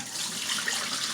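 Tap water running steadily into a bowl while rice is rinsed, a soft continuous splashing hiss at low level, with no voices.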